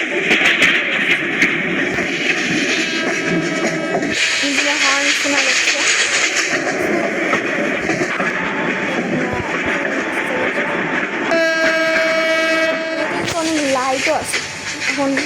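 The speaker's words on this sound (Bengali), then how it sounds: "ইঞ্জিনের হর্ন শোনা যাচ্ছে।" A train engine and horn in the Train Simulator Bangladesh mobile game: a steady engine rumble with long sustained horn blasts, heard under someone talking.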